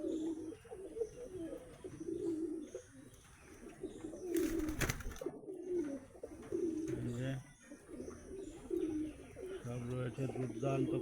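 Shahjahanpuri and other fancy pigeons in a loft coo steadily in overlapping throaty rolls close to the microphone, broken by a brief rushing burst midway.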